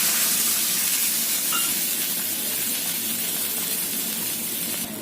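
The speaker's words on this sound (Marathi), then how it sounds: "दीड वाटी पानी घातलं" A broad hiss and steamy rush of water poured into a hot pan of cumin and green chillies, loud and steady for several seconds before easing slightly.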